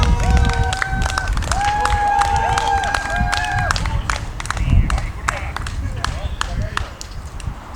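Crowd applause and cheering from an audience after a band's set at an outdoor concert in the Saku Suurhall parking lot, steady clapping mixed with crowd noise and a voice over a PA system.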